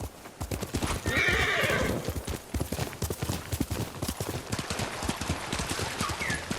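Horse in the video game Ghost of Tsushima: steady rhythmic hoofbeats of a gallop throughout, with a loud whinny near the start, close and clear.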